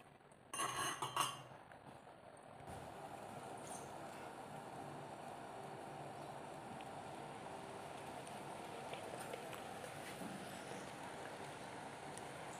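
Steady scraping and light metallic clinks of a spoon stirring semolina into boiling water in a hot pan while making kesari, continuous and close, with a brief louder clatter near the start.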